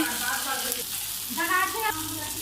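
Chopped medium-sized tomatoes fry in a pan with a steady sizzle, close up. A voice talks over the frying.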